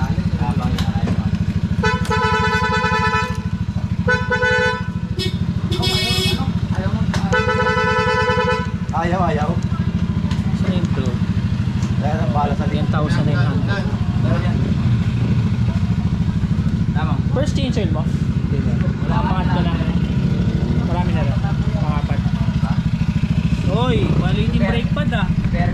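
A Yamaha NMAX 2020 motorcycle idles with a steady low engine hum under people talking, while several horn toots sound early on.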